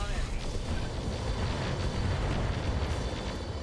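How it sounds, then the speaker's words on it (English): Mech in the RogueTech game unloading all of its weapons at a turret at once, a dense rumbling barrage of blasts and booms that stays loud and continuous throughout. "Firing full complement on enemy."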